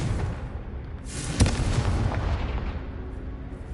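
A fire-blast spell explosion in the Hogwarts Legacy video game erupts as one loud booming blast, then rolls off into a long rumbling decay that fades over several seconds.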